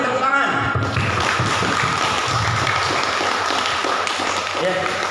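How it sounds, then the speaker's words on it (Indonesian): An audience at a religious talk on a college campus breaks into applause, a dense patter of many hands clapping at once that stays fairly steady and moderately loud throughout. "Kita beri tepuk tangan"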